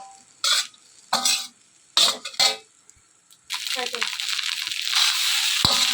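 Egg fried rice sprinkled with mutton masala is tossed in a pan, several short scraping strokes of a spatula followed by a longer stretch of steady sizzling and stirring, with a voice speaking in between.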